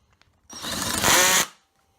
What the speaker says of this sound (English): now I'm going to use this 10mm drill bit, which I've never used before, and make the 10mm holes